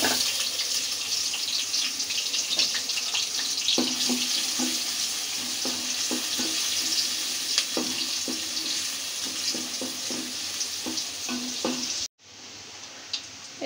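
Chopped onion fries in soybean oil with a continuous crackling sizzle, broken by scattered stirring clatters, before it cuts off abruptly near the end.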